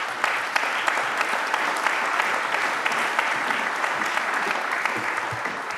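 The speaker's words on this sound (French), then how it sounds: "Merci de l'applaudir." A conference audience applauds steadily and fairly loudly throughout as a business executive walks onto the stage, with dense clapping and no clear voices.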